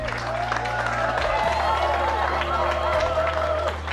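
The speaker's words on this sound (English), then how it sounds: "Round of applause for the ring bearer, please." Wedding guests give a round of applause for the ring bearer during the ceremony, a steady wash of clapping from a crowd lasting several seconds, with some voices mixed in.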